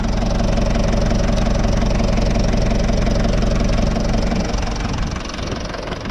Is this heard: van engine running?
yes